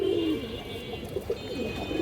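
Muslodom pigeons coo nearby, a low soft call opening the moment and followed by a few shorter murmured coos, with faint background hum and no talking.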